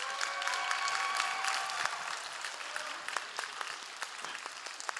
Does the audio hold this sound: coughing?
no